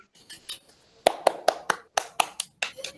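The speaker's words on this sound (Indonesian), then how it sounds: "Mana tepuk tangannya?" A classroom group of students claps for group 1, at first a few scattered taps, then a run of sharp, distinct hand claps that sound close and fairly loud, with brief pauses between them.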